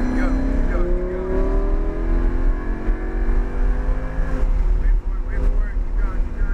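A Lamborghini accelerating at Homestead Motor Speedway with a loud, close engine roar, pitch climbing steadily through gears with wind buffeting, while an instructor talks over it.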